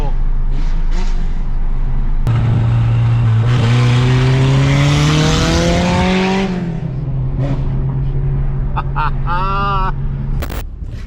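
A rare old-school JDM Toyota engine revs hard and close, its steady drone rising in pitch then settling into a loud idle, with a short burst of higher-pitched revving near the end.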